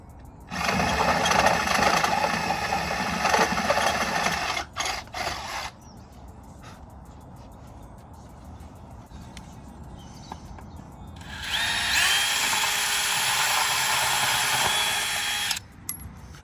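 Power drill boring holes into a wall to mount a Myenergi Zappi V2.1 7kW EV charger, two loud, rattling bursts several seconds long separated by a quieter stretch of handling noise.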